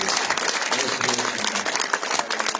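A church congregation claps along during a worship service after a song about the goodness of God, giving a busy, fairly loud patter of many hands that holds for a few seconds with some fluctuation.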